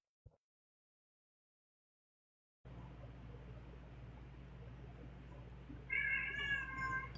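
An upset cat meows and yowls, a drawn-out wavering cry near the end, heard faintly behind a steady low hum after a silent stretch.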